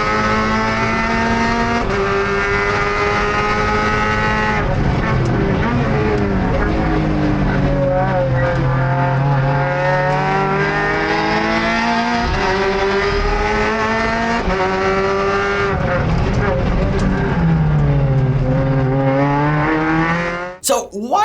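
Lotus Cup race car braking hard into a corner at Magione, its engine note falling and rising in loud continuous harmonics with a brief squeal of tires, a voice talking over it near the end.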